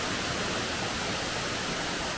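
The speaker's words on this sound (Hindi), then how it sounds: "ये देखिए पानी, साउंड तो सुनाई देगा भाई" Roar of Amicalola Falls in Georgia's Blue Ridge Mountains: a dense, steady rush of falling water, loud and unbroken from start to end, with no voices over it.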